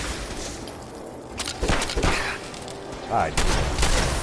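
Gunfire in Fallout 4 against heavily irradiated enemies, a cluster of sharp shots and bursts at mid-distance amid game ambience, with someone talking over and between them.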